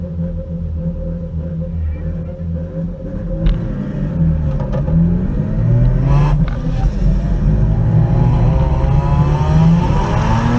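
Mazda RX-7 FC3S rotary engine idling loudly nearby, then climbing in revs around the middle with rising, swelling pitch sweeps and a steady rumble underneath.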